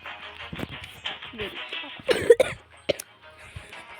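A person with a cold coughs in a short loud burst midway, amid low murmured talk on a quiet background, with a fainter cough or throat sound shortly after.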